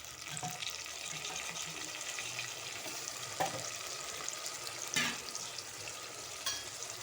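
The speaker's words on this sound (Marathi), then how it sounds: "चिकनचे पीस मी स्वच्छ दोन तीन पाण्याने धुवून घेतलेले आहे आता आपण ते टाकूया कांद्यामध्ये" Chicken pieces sizzle with onions in a hot pan for chicken pulao, a soft steady frying hiss broken by a few sharp clatters as they are tipped in and stirred.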